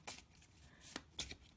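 Tarot cards are shuffled by hand in a few quick, soft riffling bursts with short pauses between them, quiet and close up.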